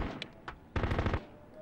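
Heavy gunfire in the PS2 game Full Spectrum Warrior: a couple of short shots, then a dense rapid burst of automatic fire lasting under half a second, loud and close, fading into quiet afterward.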